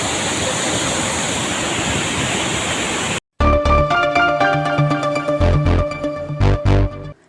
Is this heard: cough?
no